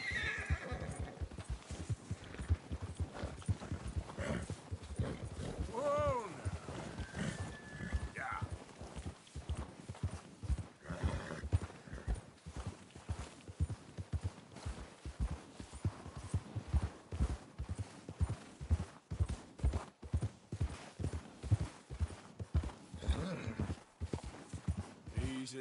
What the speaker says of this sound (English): Horse ride.